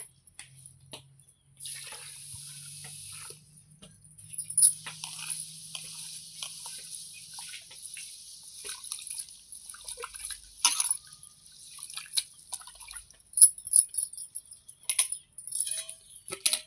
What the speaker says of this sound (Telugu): ఇవి నువ్వులు కిలో పావు కిలో పోసుకోవాలి ఇవి కడుక్కోవాలి మంచిగా